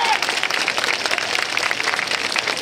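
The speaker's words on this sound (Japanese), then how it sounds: "こちらにも大きな拍手をお願いいたします" A festival crowd claps for a performance troupe on an outdoor stage at the Tohoku Kizuna festival in Fukushima, Aomori Nebuta segment, sustained dense applause from a large audience throughout.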